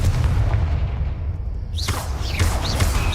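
A Confringo spell blast goes off in Hogwarts Legacy as a deep, loud boom under a sustained low rumble, followed by whooshing, sweeping magical tones.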